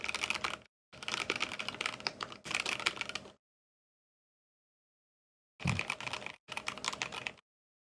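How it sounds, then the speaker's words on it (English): Typing on a KBD67 Lite R2 mechanical keyboard with a stiffer plate, fast close-up clacking in several bursts separated by a long pause, with no talk. "But see how I'm typing here?"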